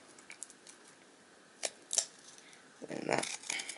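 Scissors snip through card to shape a model OO gauge railway fence, with a few sharp, close cuts spaced irregularly over a quiet background.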